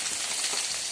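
Fish frying in hot, spattering oil gives a steady bright sizzle and hiss, close and continuous without any speech.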